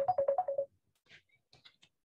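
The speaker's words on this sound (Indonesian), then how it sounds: "Ini istri saya telepon." A phone ringtone for an incoming call from the caller's wife plays a loud, bright melodic phrase of six quick repeated notes, followed by a few fainter, sparse tones that trail off into quiet.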